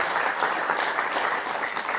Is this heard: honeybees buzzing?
no